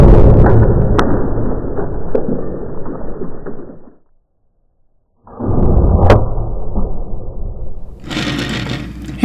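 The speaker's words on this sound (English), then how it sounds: "here's the head after impacting the concrete" A Rage Trypan no-collar broadhead arrow strikes concrete with a loud, sharp impact and a rough rumbling tail, then a brief silence before another loud burst of noise.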